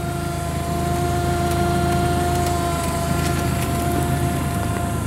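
Steady, even idle of a 2011 Hyundai 25LC-7A forklift engine, a constant close hum with a faint whine and no change in pitch.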